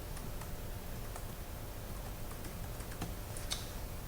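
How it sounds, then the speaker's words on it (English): Keys clatter softly and rapidly on a computer keyboard in an irregular run of faint clicks over a quiet room background. "And we want to type"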